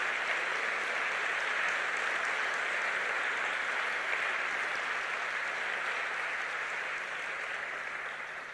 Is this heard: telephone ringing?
no